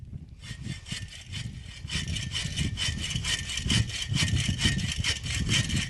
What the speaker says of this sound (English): already getting the wood cut